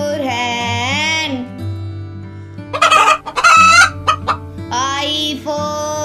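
A hen clucks and crows in a busy burst of sharp, choppy calls, loud and near, bracketed by longer sustained musical tones.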